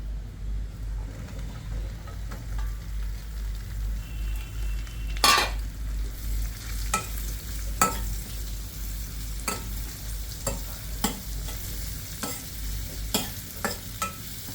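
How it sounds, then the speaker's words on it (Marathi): Mushrooms sizzling and frying in a pan with chillies while being stirred, a steady low sizzle broken by repeated sharp scrapes and clinks of a spoon against the pan. "आता मी ह्याच्यात मशरूम टाकते।"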